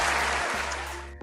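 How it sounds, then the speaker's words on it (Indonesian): Applause from a class of schoolchildren after a short-story speaking lesson, a dense burst of clapping that fades quickly within about a second. "berikan tepuk tangan untuk kita semua"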